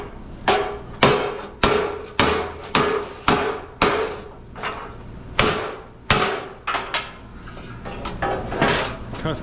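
Hammer blows straighten a mangled metal bin part on a farm, about a dozen sharp, ringing strikes in a steady rhythm with brief pauses, close and loud.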